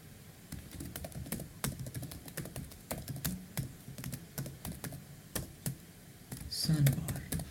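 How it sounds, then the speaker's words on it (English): An event name typed on a computer keyboard: steady, brisk key clicks run continuously at close range, fairly quiet, with a small cluster of louder taps near the end. "Now let's type the event name like"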